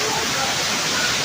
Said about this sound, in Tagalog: Ayan na po yung falls.